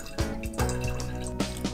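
Blended pink lemonade strained through a sieve, liquid dripping and splashing in short uneven bursts into a container below, close and fairly quiet with no talking.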